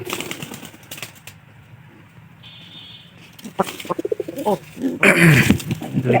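Pigeons around a loft coo and flap their wings, a soft flurry of wingbeats and low calls rising toward the end, with quieter rustling and faint bird sounds before.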